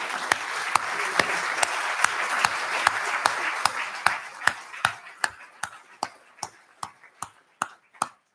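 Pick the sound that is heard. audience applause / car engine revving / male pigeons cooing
audience applause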